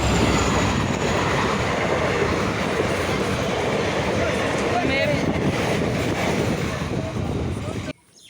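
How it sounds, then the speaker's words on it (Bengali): A train rolls past close by during a Shravan Monday outing, a broad steady rumble with faint rail squeal that holds for about eight seconds and then cuts off abruptly. "তো ফাইনালি ট্রেন চলে এসেছে।"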